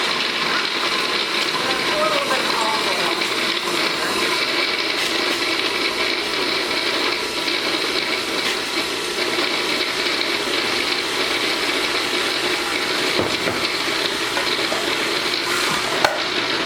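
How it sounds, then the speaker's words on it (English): A food processor motor runs steadily on peeled garlic, giving a continuous, even whirring and chopping noise that holds at the same loudness for the whole stretch, with no clear pauses. "Okay, got the garlic all peeled. It's in my food processor."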